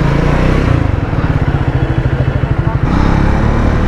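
A Triumph Scrambler 400 X motorcycle idles with a steady low, pulsing engine thump and loud rumbling noise, the rhythmic beat fading out near the end, after a long ride from Binsar to Delhi.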